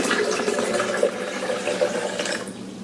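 Filtered water pouring into a Vitamix blender jar for almond milk, a steady splashing, filling stream heard up close without speech.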